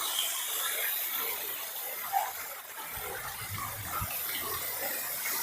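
Water pours steadily through an opened dam gate near Ghati Subramanya, a continuous broad rushing wash heard from a moderate distance, even in level with slight surges and no voices.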